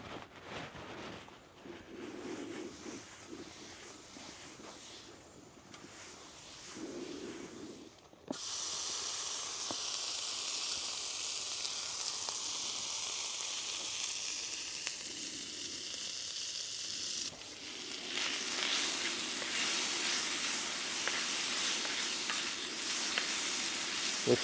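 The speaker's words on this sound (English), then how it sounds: "let the bacon and potatoes and grease all cook together" Bacon fries in grease on an oil-seasoned griddle, a continuous close sizzle and hiss that grows louder in stages as more food hits the hot surface.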